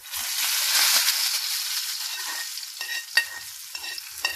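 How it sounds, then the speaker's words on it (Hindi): Loud hiss of hot tempering oil sizzling as it hits moong dal, fading gradually into scattered crackles and pops. "अपनी दाल के ऊपर ये गरम गरम तड़का लगाते हैं।"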